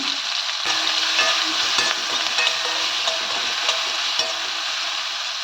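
Onions sizzle in hot oil in a pan with curry leaves, dried red chillies and a ground paste, giving a steady close crackle with scattered pops and occasional stirring scrapes.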